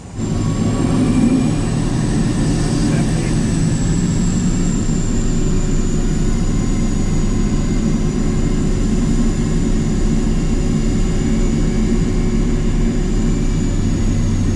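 A jet turbine fitted to a Camaro car roars loudly and continuously as it drives, with a steady low rumble and a high turbine whine sliding gradually in pitch.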